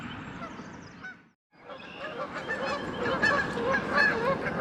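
A flock of geese honks loudly and continuously beside a pond at about 6:30 in the morning, with a brief gap before the calls swell again.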